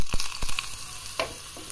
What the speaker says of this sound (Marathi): मोहरी टाकूयात, कढीपत्ता, मगाशी ठेचून घेतलेलं लसूण